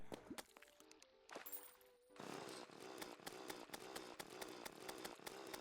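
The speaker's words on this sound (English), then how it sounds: "Sharks still don't know how to handle chainsaws." A chainsaw in the video game Terraria revs up after a few sharp clicks and pops, then runs as a steady, buzzing, rattling drone, loud and continuous with rapid pulsing.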